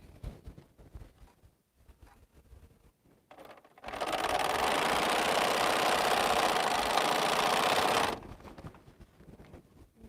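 A sewing machine stitches quilt block fabric at home, a dense steady whirring burst of about four seconds that starts and stops abruptly amid quieter handling noises.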